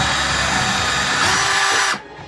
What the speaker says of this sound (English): So just rest it in and drill down.